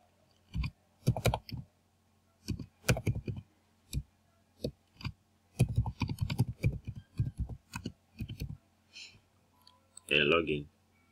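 Someone types a username and password on a computer keyboard, producing quiet, irregular bursts of clicking keystrokes separated by short pauses, then a brief voice at the end.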